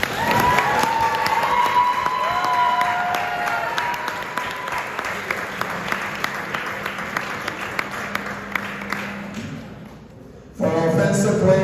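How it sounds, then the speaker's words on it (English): A crowd applauds and cheers at a school sports banquet, with loud sustained clapping and some shouts that fade gradually, followed by a sudden louder burst of noise near the end. "Give them a round of applause, please."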